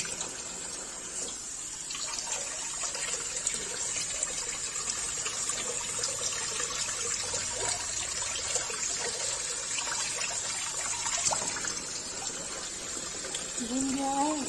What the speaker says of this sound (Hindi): इसको नल के नीचे 2 पानी धो देंगे।